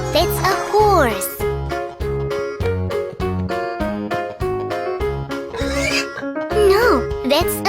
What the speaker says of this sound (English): No, that's a pig.